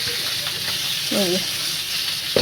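A thin curry gravy bubbles in a pan on a home stove, a steady hiss and sizzle at moderate level, with a faint voice briefly audible in the background.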